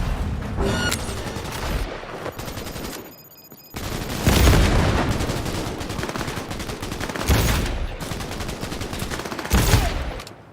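Unsilenced gunfire from the Crash pistol in Cyberpunk 2077, loud repeated bursts of shots with booming impacts, a brief quiet gap near the middle, then several more heavy volleys.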